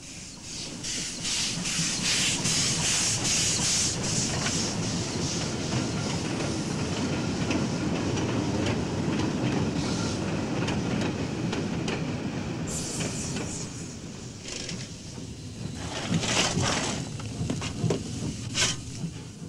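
A Duchess steam locomotive runs steadily close by, its carriages giving a continuous rumbling rattle with hiss and brighter clanks toward the end, no voices heard.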